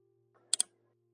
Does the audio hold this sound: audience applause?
no